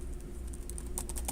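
Keys clatter on a computer keyboard while code is typed for a digital design lesson, soft and close, starting sparse and quickening into a cluster of quick taps near the end, with no talking.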